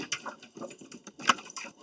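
A dog whimpering and stirring indoors before being taken outside, with short soft whines, light jingling of a collar or keys, and shuffling at close range.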